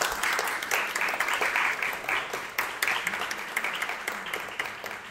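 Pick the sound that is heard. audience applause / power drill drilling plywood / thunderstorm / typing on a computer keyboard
audience applause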